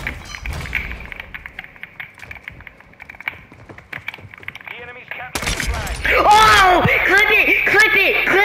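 Sniper rifle no-scope gunshot in an online video game clan match, a sharp loud crack that jumps up partway through, followed by ringing, wavering game effects and chatter, with earlier smaller shots and clicks in the background.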